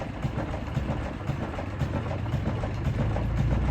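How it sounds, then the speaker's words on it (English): A Rumely OilPull Model R tractor idles with a steady, loud low rumble, a loose bolt hanging at the back rattling and dinging faintly within the continuous engine noise. "Something's rattling on there. Hear it dinging?"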